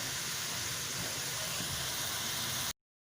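Sliced onions sizzle in a pan as they fry toward golden brown, a steady close hissing that runs alone for nearly three seconds and then cuts off abruptly.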